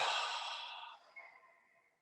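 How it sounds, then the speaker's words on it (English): A long, breathy exhale during a gentle morning yoga flow, loud and close at first, then tapering off over about two seconds, with no talking. "Big exhale breath here."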